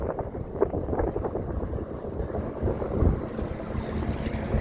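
A 31 ft Wellcraft mini yacht motoring through choppy open water, with a steady low rumble of hull slap and engine under constant wind buffeting the microphone, close and continuous.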